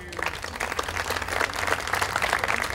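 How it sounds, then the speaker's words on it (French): Outdoor crowd applause at a local terroir festival in a sunny park in Saint-Laurent-du-Var, a steady, moderately loud wash of clapping sustained throughout. "on peut vous applaudir."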